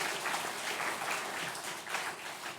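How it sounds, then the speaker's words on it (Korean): A church congregation at a Sunday afternoon service breaks into steady, dense applause, a warm unbroken patter of many hands clapping together for a few seconds. "우리 다음 세대 아이들에게 축복의 박수를 하겠습니다."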